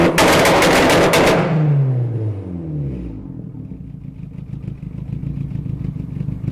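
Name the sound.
anti-lag system bangs from Mitsubishi Lancer Evolution turbo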